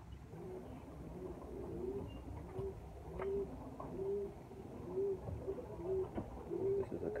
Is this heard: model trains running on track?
no